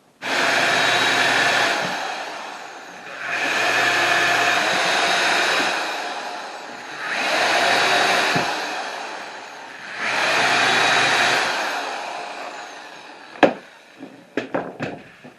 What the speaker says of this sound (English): Now we're going to countersink each of those holes so the screws are below the surface level.